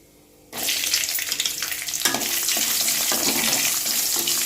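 Garlic cloves and a piece of ginger hit a hot pan and break into loud, dense sizzling after a brief quiet start, with crackles and pops continuing steadily to the end.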